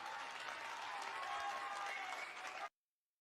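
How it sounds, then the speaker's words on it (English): A studio audience claps in a steady, dense burst of applause lasting under three seconds before it cuts off abruptly. "they both deserve a round of applause"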